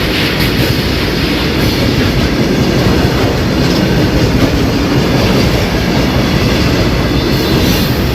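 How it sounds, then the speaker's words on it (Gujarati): A train rolls past close by at a railway crossing, loud and continuous, its wheels rumbling and clattering over the rails with no voices. "સતત ટ્રેન આવી રહી છે અને જાય છે"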